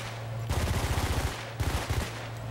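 Rapid semi-automatic rifle fire in the video game Bad Company 2, two quick bursts of close, loud, evenly spaced shots, the first about a second long and the second shorter, with a brief lull between.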